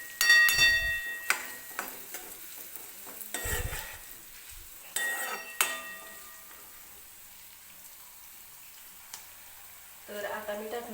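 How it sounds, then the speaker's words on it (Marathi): Urad dal roasting with onions in a pan for upma, with bursts of spatula stirring and scraping over a soft sizzle, separated by quieter stretches. "उडीद डाळ टाकल्यानंतर सुद्धा ही व्यवस्थित मी कांद्यासोबत थोडीशी भाजून घेणार आहे."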